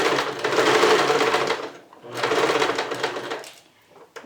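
A sewing machine runs a backstitch on fabric in two loud bursts of rapid stitching, close up, each about a second and a half long, with a short pause between them.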